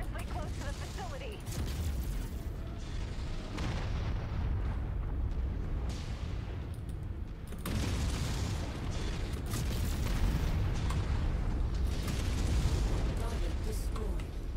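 In the mech combat game MechWarrior 5, a destroyed target explodes in heavy rumbling booms over continuous battle noise, loud and dense throughout, with a voice talking intermittently.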